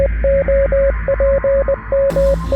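Morse-code-like tonal beeps from a lever and button in the video game Minecraft, a steady pitched tone keyed on and off in short and long pulses over a low hum, loud and close.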